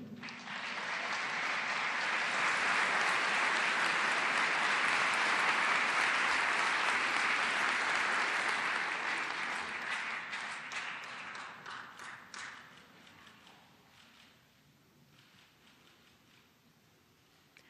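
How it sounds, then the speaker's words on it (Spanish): An audience applauds award recipients at a ceremony honoring athletes from the Pan American Games in Lima; the clapping swells loud and steady, then gradually thins and fades out over the last few seconds. "Demos un fuerte aplauso a todos los galardonados."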